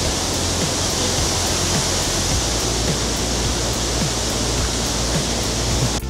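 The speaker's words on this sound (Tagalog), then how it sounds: "The Shipan Waterfalls." Shifen Waterfall in Taiwan pours in a steady, loud, broadband roar that holds unbroken for about six seconds, with no voices over it.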